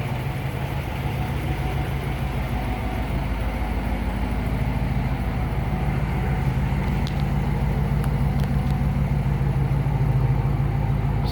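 A 1955 Mercury Montclair two-door hardtop V8 idling steadily from behind the car, a low, even burble with a smooth rumble, close and continuous, a few faint clicks near the end.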